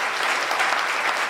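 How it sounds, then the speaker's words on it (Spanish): An audience at a history lecture applauds, a dense, steady wash of many hands clapping at once, loud and continuous throughout. "El aplauso que se escuche,"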